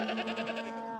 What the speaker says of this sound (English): you can see the goats are mixed with the cattle